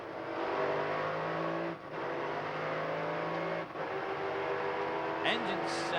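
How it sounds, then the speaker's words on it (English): A 1993 IMSA GTP prototype race car at Mid-Ohio drones steadily with engine tone and whining transmission noise, dipping briefly as it shifts, heard at a moderate distance. "there is rather a lot of transmission noise"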